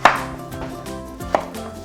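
Carrots are chopped on a chopping board with a knife, two sharp distinct knife strikes about a second apart, close and clear with no talking.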